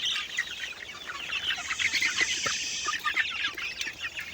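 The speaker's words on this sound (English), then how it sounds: "Now I've got buff lace Wyandotte and Plymouth Rocks." Hens of several breeds, including Sumatra, buff laced Wyandotte, Plymouth Rock and Swedish flower hens, cluck and murmur inside a box-like coop, a soft continuous chatter with occasional sharper calls.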